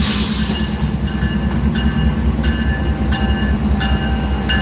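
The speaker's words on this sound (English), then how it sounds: "This is the new locomotive." A refurbished Norfolk Southern 118 freight locomotive rolls through a rail yard at night, its low engine rumble steady throughout, with periodic high metallic squeals and tones from the wheels and cars repeating every second or so.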